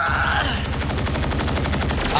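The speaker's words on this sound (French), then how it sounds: "Oh, les miniguns." Miniguns fire in an anime battle scene from the final episode of Fire Force season 2: a loud, continuous rapid-fire rattle of gunshots that runs without a break for the whole stretch.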